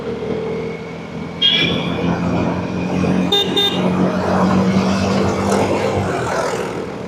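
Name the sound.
road traffic with car horns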